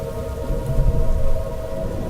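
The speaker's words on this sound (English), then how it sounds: "Can't believe the sirens are still going off. This might be the longest tornado warning we've ever had." Tornado warning sirens drone steadily in the distance, a sustained wavering tone that holds for the whole stretch over a low rumble of stormy weather outside, with no one talking.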